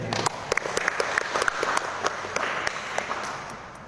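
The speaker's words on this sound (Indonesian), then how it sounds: "Aplaus dulu buat pemateri." An audience at a Ramadan study session claps for the speaker in a burst of applause of many overlapping hand claps. It is fairly loud and dense, then thins out toward the end.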